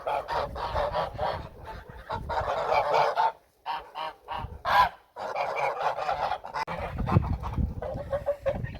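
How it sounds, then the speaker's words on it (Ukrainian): A flock of young geese honks loudly and repeatedly up close, overlapping calls in bursts with brief pauses, some clucking mixed in. "Отакі от вже наші гусята."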